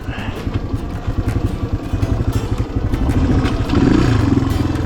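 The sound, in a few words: XR200 motorcycle climbing steep hill in first gear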